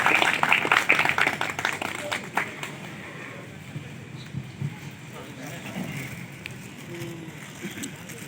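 An audience claps to welcome Musharraf bhai at a pigeon lovers association gathering in Landhi, a burst of dense applause at the start that fades into scattered claps and crowd murmur.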